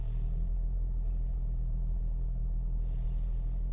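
A car engine idles steadily just after starting, during an O2 sensor check, giving a loud, constant low rumble close by with no talk.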